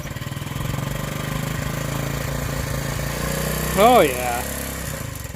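A 1979 Honda CT90 motorcycle fitted with a Chinese carburetor idles on choke, a close, steady mid-pitched engine putter running throughout, with a brief voiced exclamation over it near the end.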